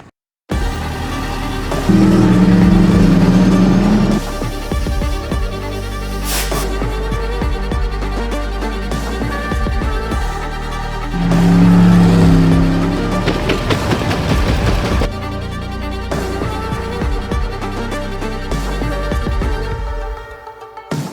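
Light sprint cars race at Saratoga Speedway on Vancouver Island, loud engine roars surging and fading as cars pass close by in two big waves, with a steady motor drone between passes.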